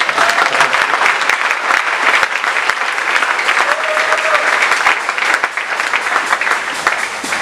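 A church congregation bursts into loud, sustained applause, dense clapping from many hands that carries on steadily, with scattered voices and cheers mixed in.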